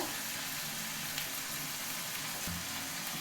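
Spices with ground coriander fry in a pan, giving a steady loud sizzle with faint stirring scrapes throughout.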